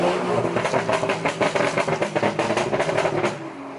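Rapid crackling exhaust pops from a car at Monterey Car Week, a dense burst of sharp bangs and rumble running close and loud for a few seconds before easing off.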